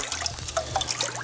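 Diluted silica nutrient solution poured from a small beaker into hydroponic reservoir water, a light trickling and splashing stream running steadily for about a second with no talk.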